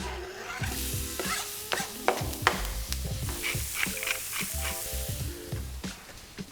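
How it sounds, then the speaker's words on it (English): Chopped onions sizzle in a hot pan with a little oil, a steady close hiss broken by frequent scraping and stirring clatter, with no talking. "Alright, onions in a hot pan with a bit of oil."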